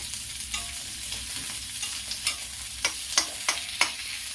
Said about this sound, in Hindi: अदरक, लहसुन, हरी मिर्च है, इसे भून लेती हूँ 1 मिनट